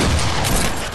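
Rapid burst of gunfire in a Fortnite match, loud and close, dense crackling shots filling a one-second stretch.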